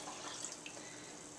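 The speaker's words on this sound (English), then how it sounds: "I'm going to go ahead and put about 3 cups of water in here." Water pours steadily into a container for making homemade almond milk, a continuous close splashing rush with no talk over it.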